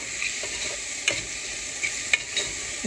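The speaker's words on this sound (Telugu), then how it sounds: "ఇక్కడ పసుపు వేసుకొని దాన్ని కూడా కొంచెం సేపు ఫ్రై చేయండి" Turmeric frying in a pan for mutton and potato curry, a steady hissing sizzle broken by a few sharp spoon taps and scrapes.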